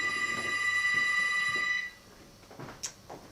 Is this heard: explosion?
no